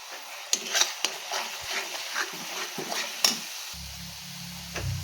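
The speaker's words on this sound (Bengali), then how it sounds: "তেল না ছাড়া পর্যন্ত ভেজে নেব।" Soft sizzling of spice paste with turmeric frying in oil in a pan, with a few stirring scrapes and clinks of a utensil against metal; no talking.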